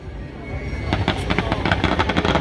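Fireworks at the island festival in Krakow am See, a rapid run of sharp pops and crackling bangs bursting after a short quiet start, heard among festival crowd noise.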